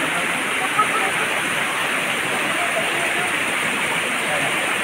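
Water flows steadily at a clear hot spring, a continuous close rushing wash with no breaks.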